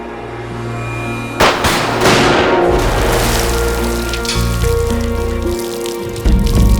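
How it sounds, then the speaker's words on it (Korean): Sodium, an alkali metal stored with oil, explodes on contact with water in a drama scene: a sudden loud blast bursts out and is followed by a sustained crackling, hissing roar under tense background music. "알칼리 금속에 물이 들어가면 폭발하잖아요."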